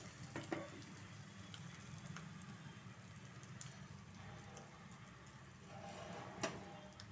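Steady soft sizzling of spices and asafoetida tempering in hot oil, with a few faint clicks and pops, no talking.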